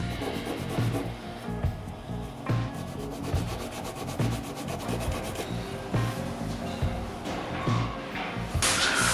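Hand sanding rust off a Jackson Dinky DX10D guitar part with 180 grit sandpaper, rhythmic back-and-forth scratchy strokes repeating steadily up close.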